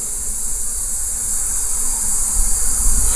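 Honeybees hum in an opened hive during an apiary inspection, a steady, dense drone that holds even and close for the whole stretch with no voices over it.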